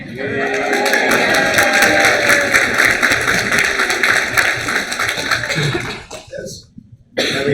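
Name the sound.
audience clapping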